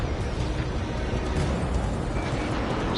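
A dense, continuous roar of a missile explosion and blast noise fills the soundscape in a jet fighter combat video game, loud and sustained with no speech.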